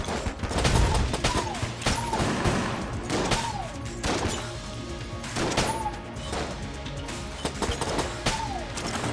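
Gunfire rattles in the Enter the Gungeon video game as an ant enemy is shot, dense repeated bursts of shots and impacts with recurring whistling tones and clattering effects throughout.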